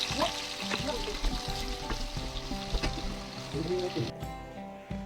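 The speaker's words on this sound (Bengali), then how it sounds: "এরপরে আমি কড়াই বসিয়ে কড়াইতে তেল দিয়ে আলুগুলোকে ভেজে নেব" Potatoes frying in hot oil in a wok give a steady, close sizzle, with stirring clatter and scrapes throughout and a voice faintly underneath at times.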